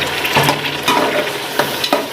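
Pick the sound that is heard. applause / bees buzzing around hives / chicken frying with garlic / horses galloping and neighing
chicken frying with garlic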